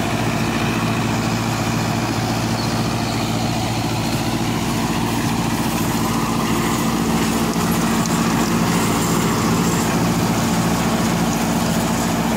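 A Swaraj Arjun 655 tractor engine runs steadily near a super seeder, a loud continuous low rumble with a constant hum and no breaks.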